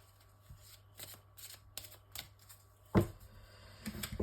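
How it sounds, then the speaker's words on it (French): Oracle cards shuffled by hand, a series of soft riffling and tapping bursts at an irregular rhythm, close but quiet, with no talking. "maintenant, je prends l'oracle des Médéors pour continuer"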